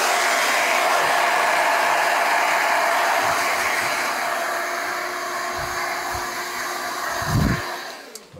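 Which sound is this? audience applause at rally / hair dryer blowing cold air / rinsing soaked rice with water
hair dryer blowing cold air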